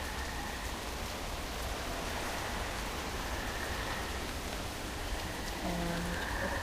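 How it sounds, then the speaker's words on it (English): Steady rain falling, a continuous even hiss of drops on a surface throughout, with no voices. "he looked up at the sky. It was raining."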